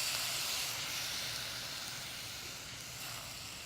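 Tomatoes sizzle in a hot pan with eggplant linguine, giving a constant broad hiss that stays steady and close.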